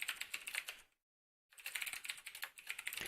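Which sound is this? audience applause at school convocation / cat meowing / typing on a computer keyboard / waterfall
typing on a computer keyboard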